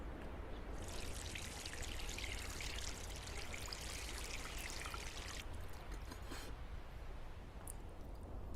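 In a Hindi film scene, water is poured for someone to wash their hands, a steady close splashing stream that runs for several seconds before thinning into a lighter trickle.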